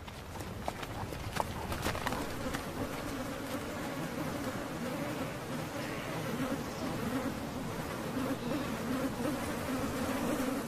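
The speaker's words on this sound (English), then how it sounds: "More than 35 species of biting insects feast in the endless daylight." A swarm of biting insects in the Alaskan summer, a dense, continuous buzzing hum close by with a few soft ticks early on and no voices.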